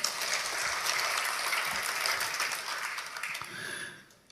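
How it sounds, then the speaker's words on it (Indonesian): A church congregation claps for God in a steady, dense wash of applause that carries for about four seconds, then fades away near the end with no voices over it. "Anda boleh beri tepuk tangan untuk Tuhan."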